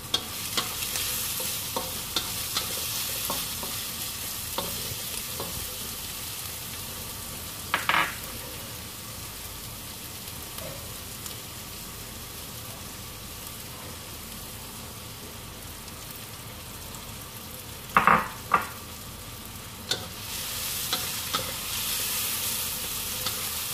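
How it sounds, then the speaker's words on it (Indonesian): Tempe fries with shallot, garlic and chili spices in hot oil, a steady dense sizzle running throughout with occasional louder stirring scrapes and clinks of a utensil against the pan. "Goreng sampai kering ya teman-teman."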